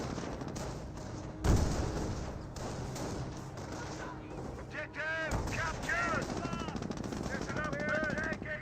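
Battle gunfire in the Company of Heroes video game, with sustained machine-gun chatter and heavy artillery-like blasts over a constant din, one sharp impact early on, and a voice talking over the action.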